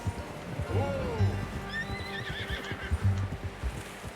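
A horse in Red Dead Redemption 2 lets out a whinnying neigh as its hooves clip-clop steadily on the ground, the rhythmic thuds continuing throughout at close range.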